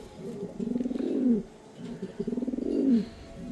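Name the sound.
racing pigeons cooing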